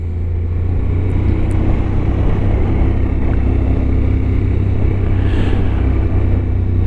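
Honda NC750X motorcycles riding through Gran Canaria, a loud steady engine drone with heavy wind rumble, constant and close throughout.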